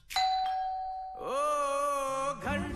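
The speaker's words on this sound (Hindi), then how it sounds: "घंटी बजाते ही दरवाजा खोले" A two-tone ding-dong doorbell chime rings out clearly, followed by a sustained harmonic tone and a brief low note at the end, heard in the title song of a 2012 film.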